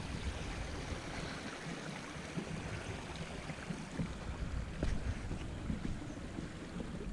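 Crowden Great Brook flows outdoors with a steady, broad rush of water that continues without a break, mixed with some wind buffeting at the microphone.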